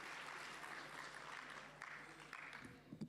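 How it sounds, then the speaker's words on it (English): A conference audience at an e-learning summit claps for a speaker, a faint, distant patter of hands that holds steady and then thins toward the end, with a few louder claps and a murmur of voices. "Ladies and gentlemen, please do give him She deserves it. A very big round of applause."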